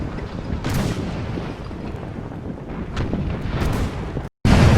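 Warship cannons fire a broadside in the Imperial Splendour naval battle game, a dense rumbling barrage of booms with sharper blasts, loud and sustained, ending in a sudden cut and a fresh roar.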